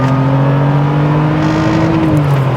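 A 1988 Porsche 911 Targa engine revs hard under acceleration, a loud steady drone whose pitch climbs gradually, close and continuous with no talking.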